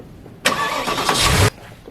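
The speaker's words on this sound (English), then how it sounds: "when you turn the car on" A Porsche Cayenne cranks and catches with a sharp burst, its engine flaring loudly for about a second before the sound cuts off abruptly, close up with no talking.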